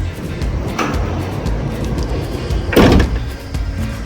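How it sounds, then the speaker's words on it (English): Sliding side door opening on a 2024 Ford Transit wheelchair van fitted with a BraunAbility side-entry lift, a single close, loud mechanical slide and latch clunk over steady background noise. "You will first open up the door."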